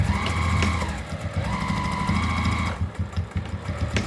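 A sewing machine back stitching a fabric mask, with a close, busy mechanical whir and rattle. The motor briefly changes pitch as the stitching reverses, then the machine keeps chattering.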